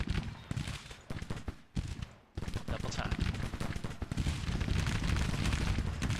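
Artillery and musket fire in the Civil War strategy game Grand Tactician, with dense, continuous battle rumble and cracking gunfire, a brief lull near two seconds, then loud sustained volleys while a voice speaks over it.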